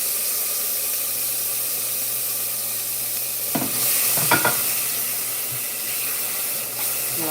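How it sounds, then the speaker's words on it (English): Onions and celery brown in a soup pot, a steady loud sizzle of frying with a few clattering stirs and scrapes of a utensil partway through, no voices. "we're going to start browning our onions and our celery"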